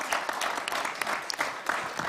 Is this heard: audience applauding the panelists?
yes